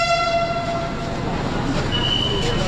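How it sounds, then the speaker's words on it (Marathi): Inside a Pune metro train during a ride, a steady rumbling hum of the moving carriage with a sustained tonal whine from the train, continuous and fairly loud. "पहिल्यांदाच बसतोय मी मेट्रोमध्ये"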